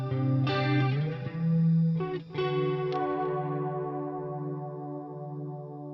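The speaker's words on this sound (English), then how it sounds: "Now the tube screamer is switched off. Let's hear how the amp sound on its own." Electric guitar from a JET JS-400 CRD played straight into an amp with the tube screamer pedal off, a clean chord ringing out, restruck a couple of times, then sustaining and slowly decaying, close and clear.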